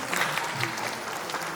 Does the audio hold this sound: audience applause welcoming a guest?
yes